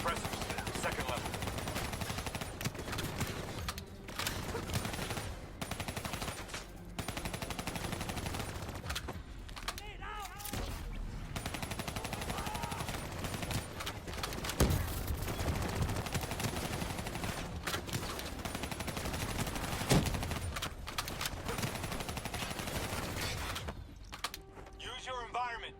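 Continuous gunfire in Call of Duty: Black Ops 3, with dense machine-gun bursts and single shots crackling throughout, mixed with mechanical clatter and a voice talking over the action.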